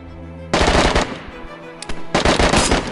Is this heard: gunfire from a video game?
yes